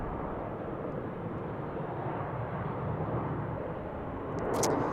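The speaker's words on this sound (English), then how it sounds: "Another Airbus A321 back-to-back kids." An Airbus A321 airliner at Salt Lake City airport produces a steady broadband jet roar that holds throughout and swells slightly near the end, with no talk over it.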